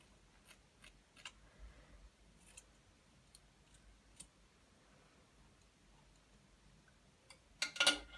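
Scissors snip the ends of hair in a quiet room, a few sharp, close, isolated clicks spaced irregularly, ending with a brief louder rustle.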